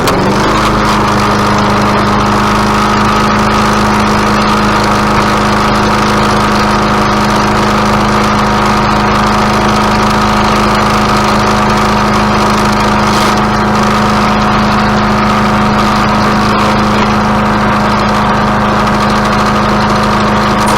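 A Craftsman lawn mower engine, a free trash find just repaired for leaks, runs at a steady drone for about twenty seconds, close and loud, with no talking.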